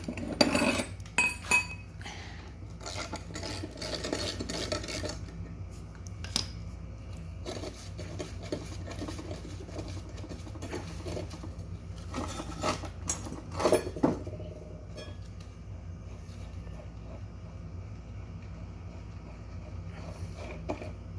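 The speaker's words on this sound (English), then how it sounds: "Then I took a 5/8 socket with a bar, and you take the blade off." A 5/8 socket and breaker bar working the blade off a Husqvarna riding mower, scattered metallic clinks, ratchet clicks and clanks of tools against steel over about twenty seconds, moderately close.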